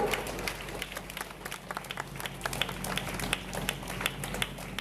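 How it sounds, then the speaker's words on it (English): Students clap during a school morning assembly, a fairly faint, uneven patter of individual claps over low background hum, with no talk. "Students clapping should be continuously."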